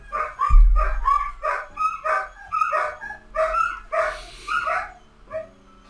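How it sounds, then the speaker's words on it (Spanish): Several dogs bark and yelp in rapid, excited bursts, a dozen or so overlapping barks at moderate distance, with a low thump near the start. "Así son los perros. Pasa una sirena a 10 cuadras de distancia y empiezan a gritar."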